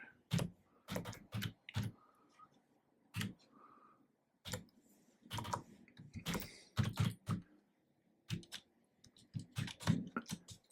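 Typing on a computer keyboard, with close, sharp key clicks arriving in irregular bursts separated by short silences.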